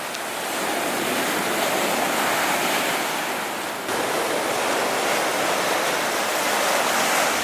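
Loud, steady ocean surf rolls and hisses at Levanto beach on the Italian Riviera, a dense continuous wash of breaking waves with some wind noise and no voices.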